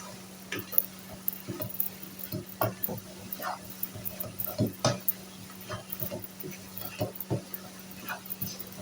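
A spoon stirs mukhiya powder into a malida mixture in a pan over low heat, giving soft, irregular scraping and tapping strokes close up against a steady low hum.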